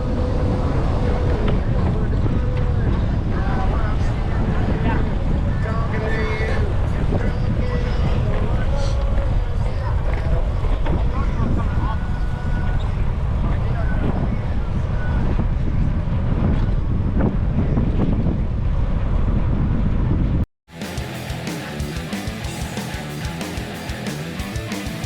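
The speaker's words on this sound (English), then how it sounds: "The headwind and crosswinds are a bitch for me." Steady, loud wind buffeting the microphone of a cyclist riding a long century day on a group bike tour, headwind and crosswinds roaring for about twenty seconds before a sudden drop to a thinner, quieter rush.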